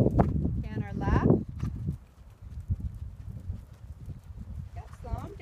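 A horse cantering to the left in a riding lesson gives soft, rhythmic hoofbeats on footing, heard faintly under a woman's instructions spoken through the clip.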